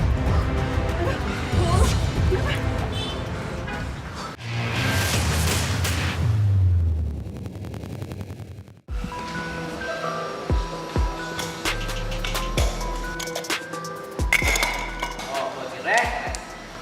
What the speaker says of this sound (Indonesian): Setiap hari ada aja alat-alat yang dibanting di gym.